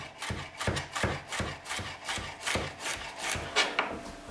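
Knife slicing onions into half rings and bell peppers into thin strips on a cutting board, a series of soft, fairly regular chopping strokes, close and quiet, with no talking.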